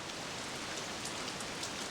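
Steady rain sound effect from the Bismark bs-16i GarageBand app on iOS, a dense, even patter of drops heard alone at moderate level with no breaks.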